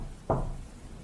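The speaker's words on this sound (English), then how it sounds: "I hear a knock at the door." A single dull knock lands on a door, close and short, with quiet room tone around it and no voices.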